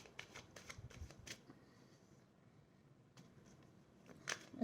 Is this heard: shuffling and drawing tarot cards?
yes